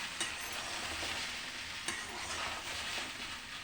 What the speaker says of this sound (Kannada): ಈಗ ಇನ್ನು ಬಿಸಿ ಬೇಯ್ತಾ ಇದೆ ಬೆಂಡೆಕಾಯಿ